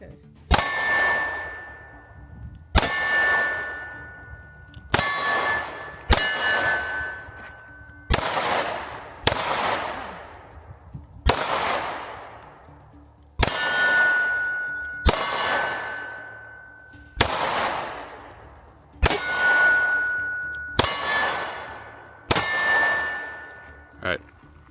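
Pistol shots from a Shield X and a P365 XMacro ringing off steel targets, about twelve sharp bangs each followed by a bright metallic clang that decays slowly, spaced roughly two seconds apart, loud and close, no talk.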